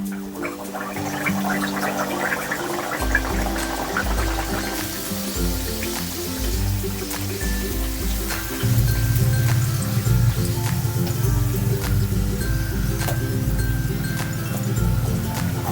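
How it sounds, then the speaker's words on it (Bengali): Pea-stuffed puris (koraishutir kochuri) sliding into hot oil and frying, a steady close bubbling sizzle that thickens as the dough puffs, continuous throughout without speech. "তেলটা আমার গরম হয়ে গেছে, তেলের মধ্যে এবার আস্তে আস্তে আমি ছেড়ে দেবো।"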